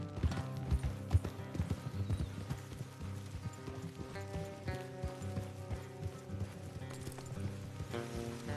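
Horse hooves clip-clop steadily on a trail in the Red Dead Redemption 2 video game, a rhythmic thudding gait under a continuous tonal music bed, moderately quiet throughout.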